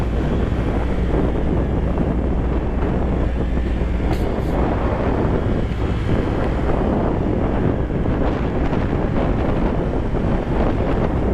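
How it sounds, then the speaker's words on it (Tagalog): Strong wind roars and buffets continuously against a closed helmet visor on a ride to Monte Maria in Lobo, Batangas, a loud low rumble battering close against the microphone throughout. "Sobrang lakas ng hangin."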